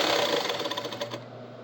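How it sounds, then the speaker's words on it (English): A sewing machine back stitches stretch fabric for an apron, a close, rapid mechanical whir with fast repeating needle ticks that slows and stops partway through. "Do our back stitch."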